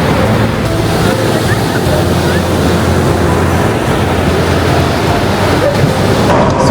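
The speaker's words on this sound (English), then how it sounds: "what is happening now is the wave is very strong" Strong ocean waves surge against the shore at Marine Drive in rough, inclement weather, a loud, unbroken wash of surf mixed with gusting wind noise on the microphone.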